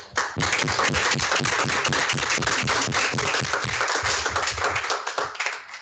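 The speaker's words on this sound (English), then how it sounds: "Round of applause for" A studio audience on a business-pitch show breaks into steady, loud clapping from a group, dense and sustained for several seconds before trailing off slightly at the end.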